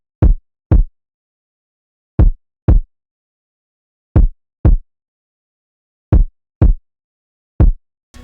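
Minimal kick drum pattern from an RnB beat: pairs of deep, punchy thumps repeating at steady intervals, four doubled hits with silence between, loud and dry with nothing else playing.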